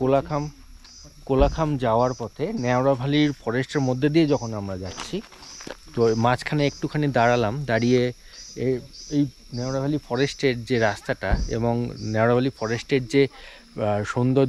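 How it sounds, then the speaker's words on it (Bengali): Crickets in Neora Valley forest on the road to Kolakham keep up a faint, continuous high trill beneath someone talking close by. "প্লাস ঝিঝি পোকার একটা ঝিঝিঝিঝি শব্দ"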